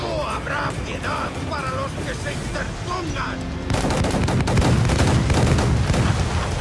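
Cannon fire in a naval battle from the video game Assassin's Creed IV Black Flag, heavy booming blasts that grow denser and louder in the second half over a continuous mix of game noise.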